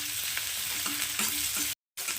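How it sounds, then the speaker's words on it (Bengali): Onions fry with cumin in a pan for a Malabar spinach stem dish, giving a steady close sizzle and crackle that breaks off briefly near the end before resuming. "পেঁয়াজটা হালকা ভাজা হয়ে গেছে"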